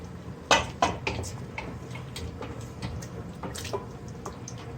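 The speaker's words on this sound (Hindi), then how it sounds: "अब ये जो मसाला है इसमें डाल देते हैं अपनी दाल में।" Fried spice tempering sizzles and splashes as it is poured into a pot of lentils, with a few clinks of metal utensils against cookware nearby.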